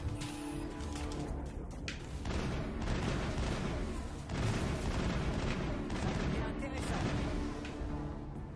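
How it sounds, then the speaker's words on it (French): Assault rifle fire in the Mass Effect video game, Eden Prime mission: dense, continuous bursts of gunshots and booming impacts layered with game music and effects, loud throughout. "je vais prendre le fusil d'assaut"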